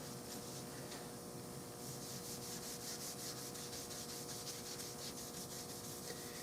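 Pumice is rubbed over a 6.5 Creedmoor rifle's stock in a continuous, fairly quiet scrubbing with a rough, rhythmic back-and-forth texture and no talk.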